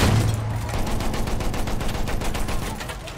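Enemy machine gun fire in Battlefield 1 rattles in a fast, steady stream of rapid shots throughout, loud and close, with a low engine-like drone underneath.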